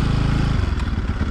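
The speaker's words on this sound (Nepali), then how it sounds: "बाइक चाहिँ फाइनल्ली घर आइयो" A motorcycle arriving at a home in the hometown, its mid-pitched engine chugging close by and loud, then settling into a rougher, uneven idle.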